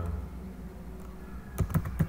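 Typing on a computer keyboard while entering text in MS Excel, heard as a few quick, close key clicks near the end after a quiet stretch of low background hum, with no talking.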